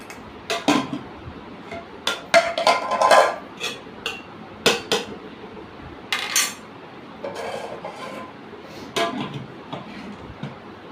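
Serving rice onto a plate for a meal eaten seated on the floor, with a metal spoon repeatedly clinking and scraping against plates and pots in irregular, sharp knocks, close and fairly loud, with no talk.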